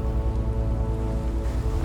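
Steady rain falls across the Patagonian landscape, a dense, even wash of drops with no breaks or voices.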